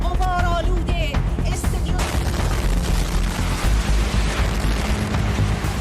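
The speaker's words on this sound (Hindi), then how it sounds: "लाइव प्रसारण के दौरान जबरदस्त धमाके से महिला एंकर दहल जाती है" Explosion from an Israeli strike on Iranian state television headquarters in Tehran during a live broadcast: a loud blast with rumbling booms and crackling debris noise, following a brief voice at the start.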